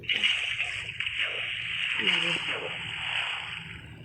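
Water being placed in a Minecraft game makes a short splashing, sloshing effect that recurs across the moment, heard under someone talking in Hindi.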